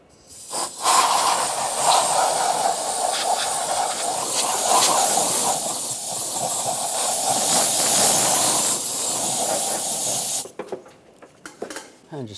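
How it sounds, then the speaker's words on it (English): Compressed air blasts debris off the engine surface of a 1996-2002 Toyota 4Runner during a knock sensor replacement, with a loud, steady hiss lasting about ten seconds before it cuts off and faint clanks follow. "Just going to use a little compressed air."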